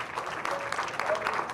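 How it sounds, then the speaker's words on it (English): Audience applause for Lloyd at the Mandela African Leadership Summit, a steady, dense wash of clapping from a seated crowd, moderately loud and continuous through the whole short stretch. "Let's give him another big round of applause."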